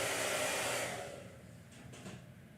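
A hair dryer blows loudly as a steady broadband rush for about a second, then drops to a quieter, lower setting and keeps running steadily, with no one speaking.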